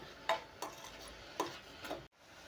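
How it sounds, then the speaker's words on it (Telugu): Grated bottle gourd frying in ghee for halwa, with a faint steady hiss and a few soft ticks of a spatula against the pan at irregular intervals. "ఉరకాయ తురుము నెయ్యిలో వేసి వేయించుకోవాలి"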